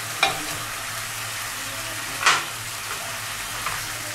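Tilapia pieces hit hot oil in a pan for a Bengali fish jhal, raising a steady broadband sizzle with sharper hissing bursts near the start and middle, close and moderately loud, with no talk.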